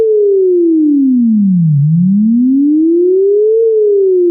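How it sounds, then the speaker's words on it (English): A steady pure sine tone, frequency-modulated by another sine wave, glides smoothly down in pitch, then back up, then dips slightly, loud and alone with no other sound. "the modulator, that sine wave, is moving it around that center there"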